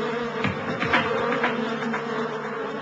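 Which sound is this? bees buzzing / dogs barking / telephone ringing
bees buzzing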